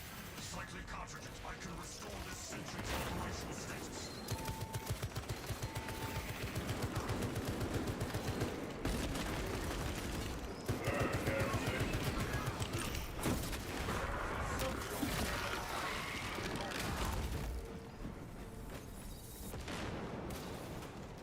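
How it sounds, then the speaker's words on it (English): A deployed Tarantula turret in Space Marine 2 fires long, rapid-fire bursts, with steady machine-gun rattling, heavy impacts and explosions in a chaotic battle. Voices talk over much of the firing. "Setting up Tarantula turret."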